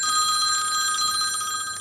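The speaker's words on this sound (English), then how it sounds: "Uh-oh, the phone's ringing." A telephone bell rings loudly and continuously, a bright steady electronic trill close to the microphone, with no talk over it.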